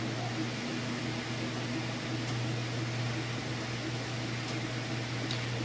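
Steady whirring hum of a Whirlpool top-load washing machine spinning fast, a constant drone with a low tonal buzz and no voices.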